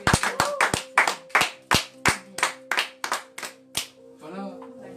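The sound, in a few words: congregation applauding in church to acclaim Jesus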